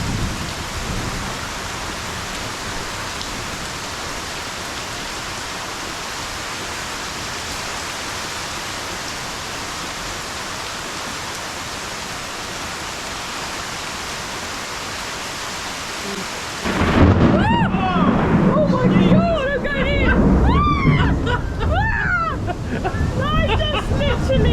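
A thunderstorm at Madeira Beach, Florida, with a steady hiss of rain and rumbling thunder, then a louder close burst of noise as people speak over the storm near the end.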